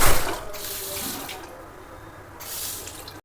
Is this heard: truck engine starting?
no